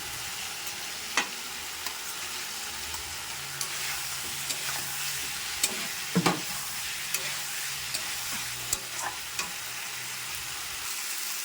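Fish roe frying in a pan for a cumin-paste hilsa dish: a steady broad sizzle with light stirring clinks and scrapes, close by, with no talking.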